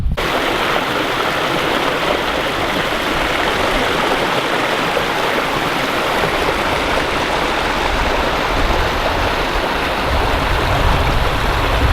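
A stream on the Jatbula Hiking Trail runs nearby, a steady, full rushing of water that holds unbroken and even for the whole stretch.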